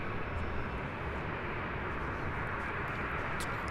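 A Swiss airliner arriving on the south side runway at LAX, a steady broad jet roar that holds loud and even throughout, without voices.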